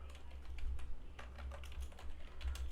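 Rapid clicking keystrokes on a computer keyboard, quiet and close, coming in uneven bursts with no talking.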